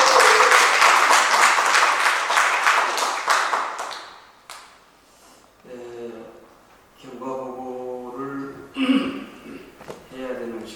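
Applause greets the chairman of a prayer-meeting preparation committee at a New York Hallelujah Festival gathering, a dense crowd clapping for about four seconds before fading, followed by someone speaking and a congregation responding.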